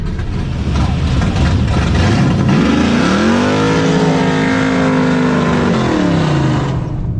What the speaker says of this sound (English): The Chevelle's got a 509 in it, and I agreed to give him back tire on the move.